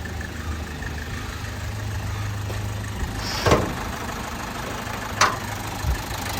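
A 2013 Toyota Etios GD diesel car in good condition idles steadily with a low, even hum, broken by a couple of brief sharper clicks or knocks.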